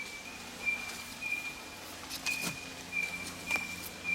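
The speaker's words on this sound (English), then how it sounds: "Called the grey-headed robin, but he's one of the endemic bird species in the forest." A grey-headed robin calls in Australian rainforest, a thin, high, repeated piping note sounding several times at a moderate distance over quiet forest ambience with faint rustling.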